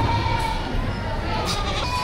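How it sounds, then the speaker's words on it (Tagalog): A goat bleats amid the din of a busy cattle, goat and carabao livestock market in Padre Garcia, Batangas, with people talking and crowd noise throughout. "Nabili ni Kuya Nilo rin ganitong kambing"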